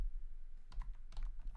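Typing on an iPad keyboard up close, a few quick bursts of soft key clicks after a quiet start, with no talking.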